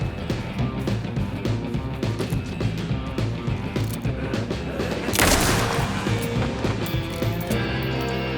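Gunfire in the video game Alan Wake 2 rattles off in a dense, loud barrage of shots and booms layered over a thick game soundtrack.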